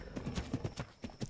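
Horse hooves clip-clop in Ark Ragnarok, a rapid, close run of hollow knocks over about a second, clear and with no talk over them.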